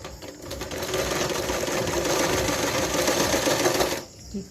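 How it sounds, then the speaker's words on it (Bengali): A sewing machine stitches salwar fabric in a steady, close, continuous whirring run of needle strokes that stops abruptly near the end, followed by a brief soft knock. "এখানে একটুখানি সেলাই করে নেব"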